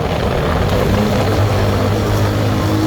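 A Mojo 200 motorcycle with a newly changed sprocket rides at high speed, its engine and rushing wind blending into a loud, steady roar with no talking.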